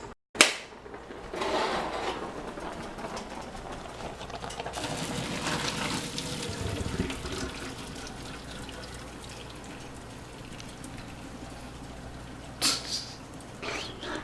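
Cooked spaghetti is drained as water pours and splashes into a kitchen sink, a steady, rushing flow that lasts several seconds and has a few sharper bursts.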